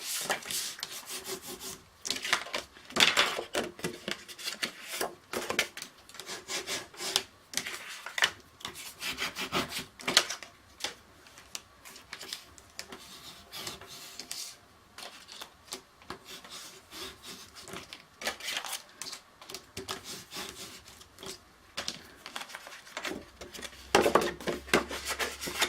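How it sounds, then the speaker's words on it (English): A bone folder creases scored paper in quiet, irregular rubbing and scraping strokes, close and faint, with no talk. "bone folder, crease everything."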